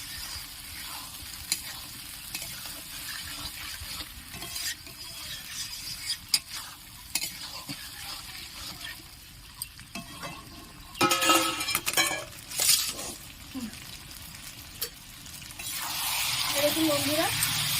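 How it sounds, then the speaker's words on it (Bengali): Fried potatoes are stir-fried in a pan for a prawn and potol dish, giving a low, steady sizzle with spatula scrapes and occasional clinks. A louder burst of stirring comes partway through, and a brief voice is heard near the end. "ভেজে রাখা আলুগুলো দিয়ে দিলাম এবারে এটি ভালো করে কষিয়ে নেবো"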